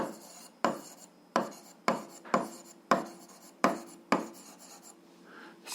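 Pen or pencil scratches across paper in about eight short strokes, each starting with a sharp onset and trailing off, close and clear, then a softer rub at the end as a sum is written out.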